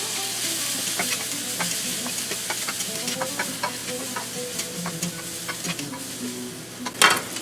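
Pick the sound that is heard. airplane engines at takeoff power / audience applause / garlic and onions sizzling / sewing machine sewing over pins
garlic and onions sizzling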